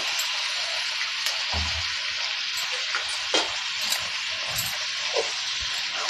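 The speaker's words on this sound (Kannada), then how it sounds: "ಉರಿ ಜೋರು ಮಾಡಿಬಿಟ್ಟು ಇವಾಗ ಹುರ್ಕೊಳ್ಳಿ ನೋಡಿ" Long white brinjal pieces fry over high heat for vangibath, making a continuous close sizzle punctuated by soft stirring clicks and scrapes in the pan.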